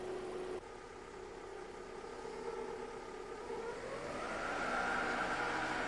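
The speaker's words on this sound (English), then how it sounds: "run the engine at 1000 RPM and check the hydraulic pressure again" Toyota car engine held at 1000 RPM during a power steering hydraulic pressure check: a steady mid-pitched hum and whir with a faint rise in pitch toward the end, quiet and continuous, with no talk.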